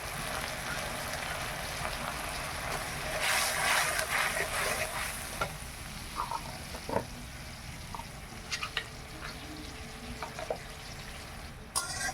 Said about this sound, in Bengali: সুন্দর মশলা ভাজা হয়ে গেছে মশলা থেকে তেল ছেড়ে গেছে